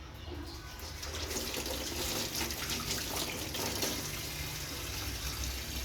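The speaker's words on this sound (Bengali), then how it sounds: "আমি আপনাদেরকে ধুয়ে দেখাচ্ছি দুইটা শিং মাছ" Two catfish are rinsed under a running tap, a steady rush of water splashing into a sink that grows a little fuller after the first second and continues without a pause.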